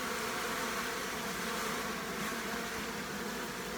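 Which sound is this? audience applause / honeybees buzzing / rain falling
honeybees buzzing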